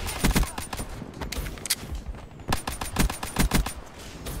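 Pistol gunfire in a shooter video game, a series of sharp close shots in quick bursts with brief pauses between them, loud and punchy.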